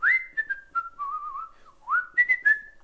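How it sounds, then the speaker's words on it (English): A person whistles a simple melody alone, clear and close, in a short run of bright sliding notes that rise and fall, with a brief pause before a second phrase. "Whistle with me"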